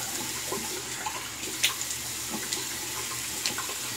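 Tap water running into a sink for a cool rinse during a wet shave, a steady splashing stream with a few brief clatters, fairly quiet and close.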